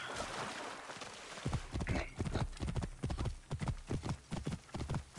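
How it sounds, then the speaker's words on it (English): Horse hooves clip-clopping in Assassin's Creed Origins, a steady, fairly close trotting rhythm of repeated thuds that starts after a short lead-in of ambient noise and continues to the end. "I call my horse. My horse just magically appears right next to me."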